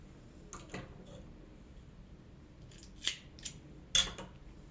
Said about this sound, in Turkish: Sonra buradan ipimi kesiyorum.